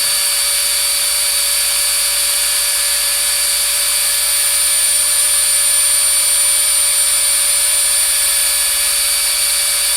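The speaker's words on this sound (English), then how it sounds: "Very pleased with the home-built CNC." A home-built Arduino CNC machine carves a name sign, its spindle giving off a loud, steady high-pitched whine with several sustained tones and no change throughout.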